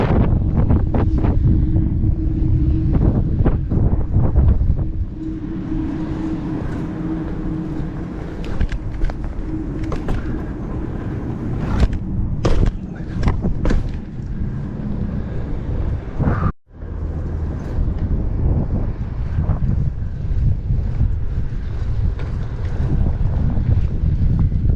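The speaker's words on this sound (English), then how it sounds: "Windy as hell." Strong gusting wind buffeting the microphone while riding a BMX around a university campus, loud rough rumbling that swells and drops, with one brief cutout partway through.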